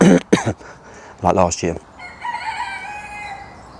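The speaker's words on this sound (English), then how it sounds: "You hear that chicken?" A chicken clucks and crows close by in a few loud, choppy bursts, followed by a drawn-out, wavering call over faint background noise.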